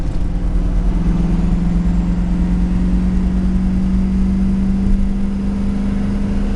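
A turbocharged engine on a centermount turbo setup, being broken in with a light pull at about quarter throttle, gives a steady, loud mid-pitched drone with a sustained tone and no voices.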